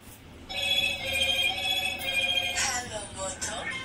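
A telephone rings indoors in a home, a steady electronic ringtone of repeating bright tones that carries on for a few seconds before fading out amid faint background sounds.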